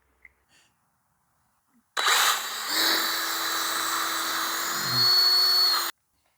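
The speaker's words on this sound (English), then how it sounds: "now we're going to go ahead and drill our other hole" A power drill bores into a wooden fence post in one continuous whine of about four seconds, loud and close, with the pitch rising as the motor revs and the bit bites in. Brief clicks come just before.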